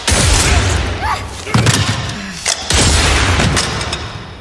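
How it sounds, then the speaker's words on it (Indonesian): Several gunshots ring out in a tense film scene, sharp loud bursts spaced about a second apart over a dense roaring soundtrack, with booming impacts and a brief voice in between. "Maya melepaskan beberapa tembakan yang membuat Choi teralihkan"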